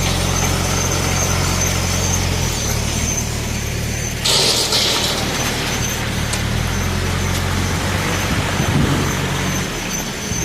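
A truck idles and rumbles at a road works site while being loaded with material, with a low steady engine drone, a clattering burst of material partway through, and constant close machinery noise.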